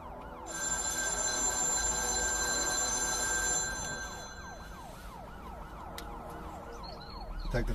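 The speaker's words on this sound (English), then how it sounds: "Detective Hatcher's phone" A telephone rings in a horror film, repeating a loud electronic trill for several seconds. A wavering siren-like tone fades in as the ringing drops out, and then the ringing comes back.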